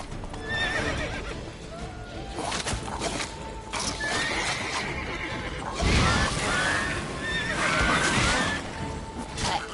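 Geralt's horse Roach in The Witcher 3: Wild Hunt, Blood and Wine, neighs loudly several times and thumps with a hard kick amid hoof clatter, close and busy, with faint game background underneath.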